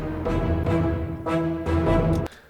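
A looped electronic soundtrack phrase from a Westworld-style car chase cue, with dense sustained synth tones and rhythmic pulses repeating in even segments, loud and full, then cutting off abruptly near the end.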